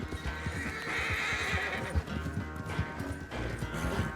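A horse gallops in Red Dead Redemption 2, its rapid hoofbeats pounding in a close, driving rhythm, with a whinny rising over the clatter.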